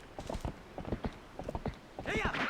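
Horse hooves clip-clop in the Twilight Princess video game, a quick loud run of hoofbeats in an uneven gallop rhythm, followed by a brief whinny-like cry at the end.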